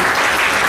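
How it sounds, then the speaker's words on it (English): A seated audience clapping for themselves at the close of a gathering, a brief burst of dense, loud applause from many people nearby. "Can we clap for ourselves?"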